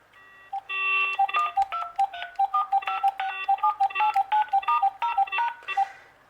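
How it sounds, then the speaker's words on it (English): A VTech CS-6858 DECT 6.0 cordless phone handset plays a harsh electronic dial tone, followed by a quick run of evenly spaced key beeps that repeat rhythmically at close range with no talking. "As you can see, the handset also has an awful dial tone."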